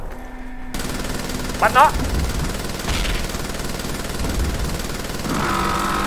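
Gunfire in a Siren Head monster video game rattles as a continuous loud barrage, with a brief spoken phrase and other game sound effects mixed in.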